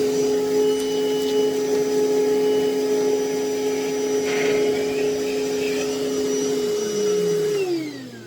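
A Milwaukee shop vacuum and a corded shop vac suck up sawdust together, a loud steady whining roar with a strong tonal hum and gritty debris rattle, the motor pitch dropping as one winds down at the end.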